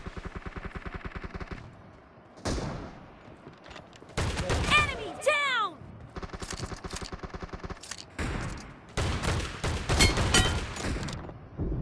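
Shotgun and automatic gunfire in a PUBG team deathmatch fight come as rapid, loud repeated bursts and volleys through most of the stretch, broken by short pauses, with game effects mixed in.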